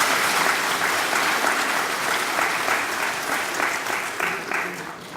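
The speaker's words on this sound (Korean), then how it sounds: "박수로 맞아주시기 바랍니다." An audience at a residents' information meeting in Seoul applauds loudly and steadily, a dense wash of clapping that eases slightly toward the end.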